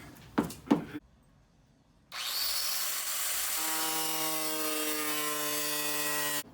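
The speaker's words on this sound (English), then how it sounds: "Now we gotta grind this shit off, which I just started, but fit the wide body in it." An angle grinder cuts away part of a Nissan S13.5 car body to make room for a Rocket Bunny wide body kit: two sharp knocks, a pause, then a loud, steady whining grind that settles into a sustained tone.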